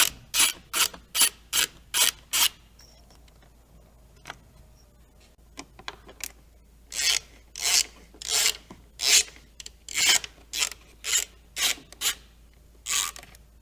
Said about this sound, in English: start out with I believe that's a 5/32 Allen socket, and remove this little screw from both sides